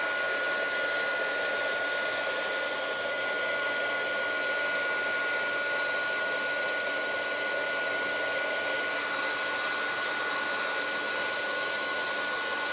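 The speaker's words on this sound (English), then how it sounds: "And then I'm just going to heat this up with the heat gun." A heat gun blows hot air steadily over powder in a crafting project, giving a loud, constant whooshing hiss with a faint whine that runs unbroken from start to finish.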